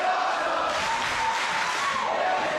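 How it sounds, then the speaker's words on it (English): A Waterbury wrestling crowd roars in a steady, dense wash of cheering and shouting at a live match, holding at one sustained level for the whole stretch with no clear commentary on top. "this Waterbury crowd letting them know that they're loving what they see"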